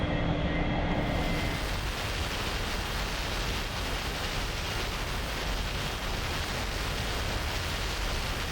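An A-4E jet in a DCS flight simulator lowers its flaps and landing gear, heard as a steady, loud broadband rush of airflow and engine noise after a brief change at the start.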